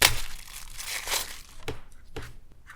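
Plastic wrapping around the body of a VANOM ASTRO MARK.3 device crinkles densely and close up, then gives a few sharper, separate crackles as it settles, with no talking.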